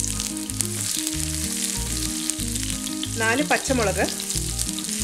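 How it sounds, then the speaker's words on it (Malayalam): Garlic, shallots and green chilies sauté in hot oil with a continuous crackling sizzle, a brief burst of louder spattering midway, and a quiet voice speaking over it near the start. "ഇതൊന്ന് നന്നായിട്ട് വഴറ്റിയെടുക്കണം."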